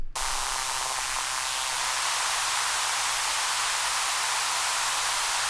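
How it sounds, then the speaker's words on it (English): Dense hiss of broadband noise from an Arturia DX-7 V software synthesizer, every harmonic at once, holding steady and loud for several seconds after a sharp start, with no tone or voices. "another way to describe all of the harmonics is noise."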